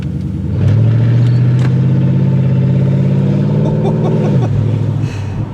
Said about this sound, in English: The sweet sound of a V8.